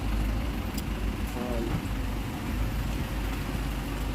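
A parked Isuzu Trooper's engine is left idling on a street in Vigan, giving a steady, low, continuous rumble with faint voices in the background.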